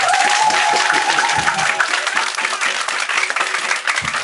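A church congregation applauding during a worship service, dense sustained clapping throughout with a faint murmur of voices beneath.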